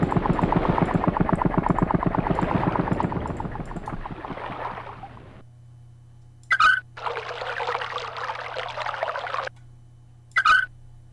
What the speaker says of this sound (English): We really want to drain the lighthouse first, I think.